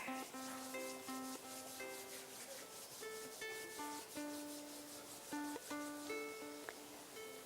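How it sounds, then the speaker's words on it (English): Palms rubbed together at chest level during a guided practice at a live satsang in Rishikesh give a steady, soft, dry friction hiss, with sustained musical tones playing underneath throughout. "Slowly bring the palms of the hands together at chest level and gently rub them against each other."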